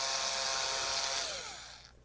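A power drill whines at high pitch, close and fairly loud, while working old rusted screws out of a guitar, then winds down and stops.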